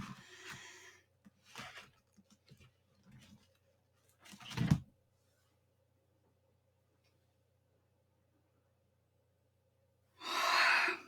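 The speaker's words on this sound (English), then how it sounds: "Big deep breaths in and out." Slow, deep breaths in and out come in a few soft, close bursts, with long stretches of near silence between them and a last louder exhale at the end.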